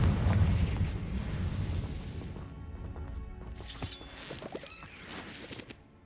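A Confringo spell explosion in Hogwarts Legacy: a heavy, rumbling fiery blast that rolls and fades, then crackling bursts and debris-like pops as the fire dies down, with no voices.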